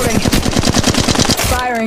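Rapid automatic gunfire in the Apex Legends Mobile video game, a fast steady burst of about a dozen close, loud shots over under two seconds, ending abruptly.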